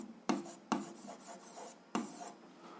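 Pen or chalk strokes scratch out an algebra exercise solution, three sharp onsets each trailing into rubbing, scratchy writing, quiet and close with no talk.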